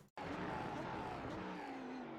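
An Audi R8 LMS GT3 in iRacing slows under braking at Magny-Cours, its engine droning steadily while the pitch falls away, close and continuous after a brief cut at the start.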